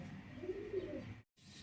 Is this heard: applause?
no